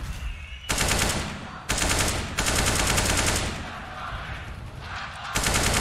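Loud bursts of tap-fired rifle shots in a Counter-Strike match, coming in several sharp clusters separated by brief pauses, close and dominant with almost no speech.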